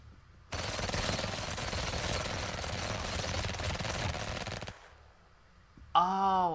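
Sustained automatic gunfire rattles at the player in the game Lemuria, a continuous dense burst lasting about four seconds that cuts off abruptly, followed by a quiet gap and then a short tonal sound.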